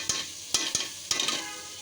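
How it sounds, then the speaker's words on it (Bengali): Lentils tossed and stirred in a hot spiced pan, a few sharp scraping clatters of the spoon over a soft steady sizzle, close and fairly quiet. "ডাল দিয়ে দিলাম। ডালটা একটু কষিয়ে"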